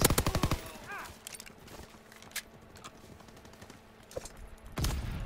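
Gunfire in Call of Duty WWII multiplayer, a quick loud volley of shots at the start, then scattered single cracks and distant pops over a low game ambience, with another burst near the end.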